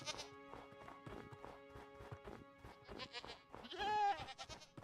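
Screaming goats in Minecraft, a series of choppy bleats that build into a louder, drawn-out wavering scream near the end, fairly faint overall.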